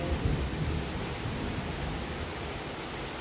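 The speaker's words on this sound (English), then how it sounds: "I want you guys to hear the rumbling thunder." Steady rain with a low rumble of thunder beneath it during a thunderstorm, a continuous broadband wash with no voices.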